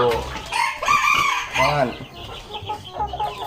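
Chickens kept at a farm cluck and crow nearby in overlapping calls, a rooster's crow rising above the flock, while someone talks briefly among them.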